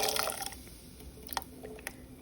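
Beans tumble into a pot of rice and water, a brief wet splash and pour at the start followed by a few faint drips and plops, close by.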